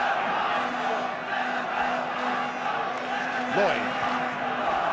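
Liverpool supporters at the 1971 FA Cup Final against Arsenal make a sustained, distant stadium roar with a droning chant running through it, under a commentator's voice.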